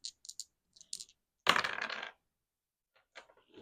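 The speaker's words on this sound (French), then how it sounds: "Donc, on prend 2 dés." Two dice rolled onto a hard surface for a savings game, a few light clicks and taps, then a single clattering tumble of dice, followed by sparse faint ticks in a quiet room.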